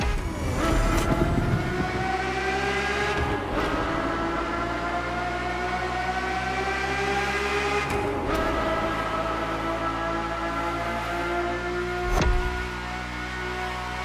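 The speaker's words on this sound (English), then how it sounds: "The F50's core is a normally aspirated V12 that came straight from a Formula One" A Ferrari F50's naturally aspirated V12 in The Crew Motorfest, a loud, sustained high-pitched engine wail that climbs through revs with brief dips at gear changes, close and continuous.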